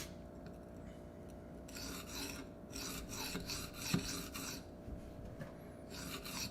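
Knife edge rasping in repeated strokes across a Venev sharpening stone to flip the burr, bursts of dry scraping separated by short pauses, close and clear with no talking.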